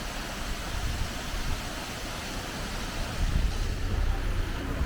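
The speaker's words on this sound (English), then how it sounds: "So this is the waterfalls." Waterfalls at Tivoli, Italy, give a steady broadband rush of falling water, loud and continuous with no talk, swelling slightly stronger toward the end.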